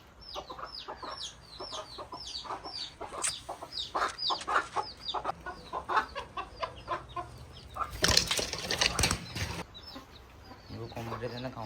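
Chickens cluck repeatedly near pigeons in a rooftop coop, quick irregular clucks and calls close by, with a louder burst of flapping or scuffling partway through.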